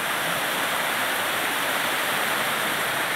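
Water pouring over a reservoir spillway makes a loud, steady, unbroken rushing roar that fills the whole stretch without pause or voices.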